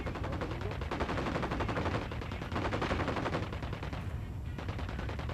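Gunfire in the video game Ghost Recon Wildlands rattles in rapid automatic bursts, a dense stream of shots that pauses briefly and resumes, fairly faint overall.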